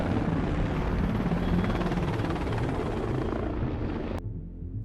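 A US military anti-submarine warfare helicopter flies close and loud, its broad rotor and turbine roar holding steady before cutting off abruptly near the end; no voices.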